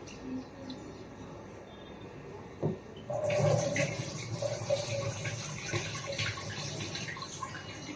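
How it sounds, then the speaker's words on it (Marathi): Fenugreek leaves are rinsed under running water to wash off soil. After a quiet start, a steady close rush and splash of water begins and continues. "त्याच्यामध्ये माती असते ना, तर 2-3 पाण्याने धुवून घ्यायची ती"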